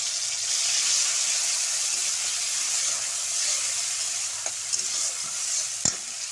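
Tomato is added to hot oil left from frying pointed gourd, with dried red chilli, giving a continuous close frying hiss and a few brief utensil knocks near the end, with no talk.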